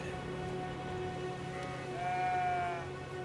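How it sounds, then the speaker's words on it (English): Faint bleating from a goat wandering in the video game Elden Ring, one drawn-out, wavering cry rising partway through over a soft, rain-like ambient hiss. "A goat wandering before this?"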